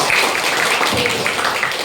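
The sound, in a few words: classroom applause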